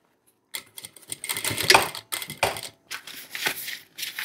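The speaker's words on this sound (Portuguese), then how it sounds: "Vou começar a costurar aqui novamente na curva, tá?" Domestic sewing machine stitching a curved seam on a fabric shoulder bag panel, heard close up as stop-start bursts of rapid mechanical whirring and needle clatter across several seconds, with short pauses between runs.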